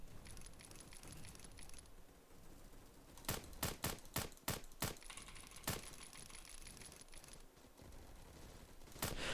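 Gunfire in the online shooter Bad Business, a shotgun going off in a quick run of about seven sharp blasts mid-clip, with more isolated shots before and after over constant game background noise.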